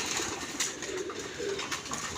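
Pigeons coo in a rooftop pigeon loft, a soft, steady, fairly close murmur of calls running throughout, with no one talking.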